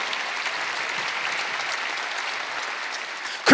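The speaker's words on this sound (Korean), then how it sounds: "박수하면서 살아났다고 말해요." A church congregation at a Wednesday worship service claps together in a steady, even wash of sound at moderate volume from start to end, with no talk.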